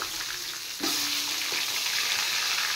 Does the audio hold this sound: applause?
no